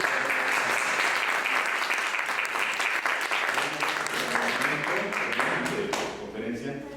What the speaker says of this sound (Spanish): vamos a dar un aplauso nuevamente